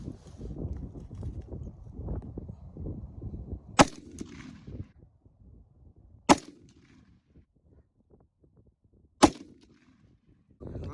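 Three sharp 6.5 Creedmoor rifle shots firing Hornady 140 grain hollow point rounds at a range, spaced a few seconds apart, each loud crack ringing briefly over low outdoor background noise and faint voices.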